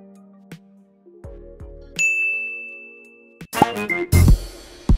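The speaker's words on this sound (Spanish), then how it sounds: "el efecto de sonido que voy a usar se llama DIN y en español sería timbre" A "ding" sound effect from a video editing app rings out clearly, a bright sustained bell tone among a few other short digital tones and clanks, loud and close, with no speech.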